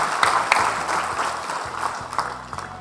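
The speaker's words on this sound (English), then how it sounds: "a big round of applause to all you guys" Applause for a panel at a brokers' event, a short burst of crowd clapping with scattered sharper claps, fairly close and steady throughout.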